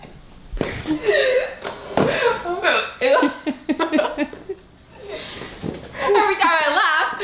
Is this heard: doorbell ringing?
no